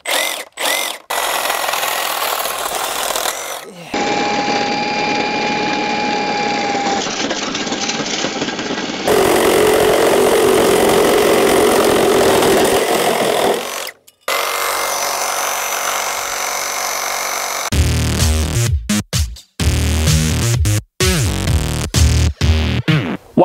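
A Milwaukee Super Sawzall reciprocating saw ripping through material during remodeling work, loud and close, with long sustained cutting runs broken by brief stops, shifts in pitch as the load changes, and choppy bursts toward the end.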